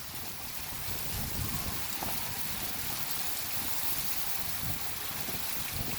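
Steady, dense rain hisses and patters continuously, a heavy downpour in Karachi with no voices.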